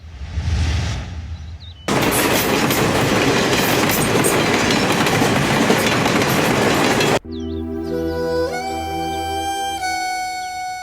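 Train passing through Borra railway station: a loud, steady rumble of railcars with rattling wheels fills the middle stretch, cutting off abruptly and giving way to quieter sounds.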